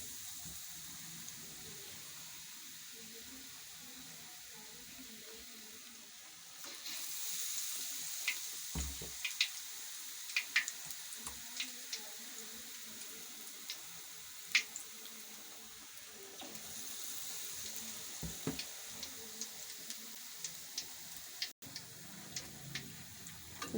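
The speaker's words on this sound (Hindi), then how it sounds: "हम इनको डिप कर करके इस बैटर में हम घी में फ्राई कर लेंगे" Spinach leaves coated in batter deep-frying in hot ghee, giving a steady, quiet sizzle with scattered crackles and small pops that thicken partway through, with no one speaking.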